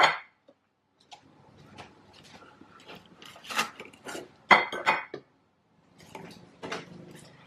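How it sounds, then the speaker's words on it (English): A ready-meal beef bolognese with cheese is moved onto a plate, giving intermittent scrapes, light clinks and clatters of cutlery against the tray and dish, with short quiet gaps between bursts. "let me put it in a plate"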